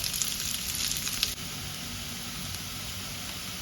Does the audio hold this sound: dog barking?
no